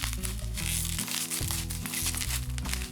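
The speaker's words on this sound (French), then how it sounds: "Il y a vraiment trop de papier bulle pour moi." Plastic bubble wrap crinkles and crackles steadily while being pulled out of a box, close and continuous, with faint music underneath.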